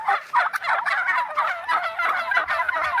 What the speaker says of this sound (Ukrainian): Індики попідростали.